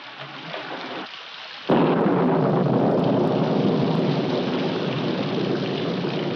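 Steady heavy rain pours down in a 1946 film, a broadband hiss that jumps suddenly louder partway through and stays dense and close until the end.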